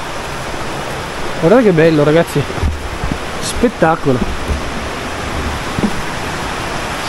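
The Sessi river flowing beneath a small footbridge on a woodland trek: a steady, broad rushing wash of water fills the background, with a person speaking briefly over it.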